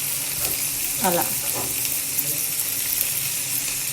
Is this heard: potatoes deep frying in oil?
yes